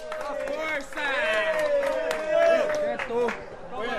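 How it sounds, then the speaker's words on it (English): Inmates in an overcrowded Brazilian prison cell clap and call out for a departing cellmate. Scattered claps mix with loud, overlapping shouting voices nearby. "he gets a round of applause"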